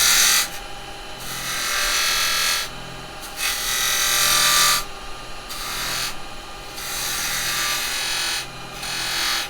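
A carbide chisel cuts a tenon on a spinning wood lathe, giving bursts of bright, rasping cutting noise that alternate with brief quieter gaps over a low motor hum, close up, with no talking.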